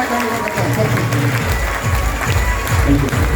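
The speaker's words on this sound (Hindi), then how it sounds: "एक बार जोरदार ताली बजाए सर को" Loud applause from an audience at an RCM business meeting in Jamshedpur, cheering an Emerald Achiever, a dense steady clatter of many hands filling the room without break.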